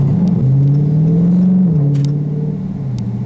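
Dodge Charger Scat Pack engine droning under acceleration, with a steady rising pitch that dips briefly at a gear shift around the middle before pulling on, heard from inside the car with no talk.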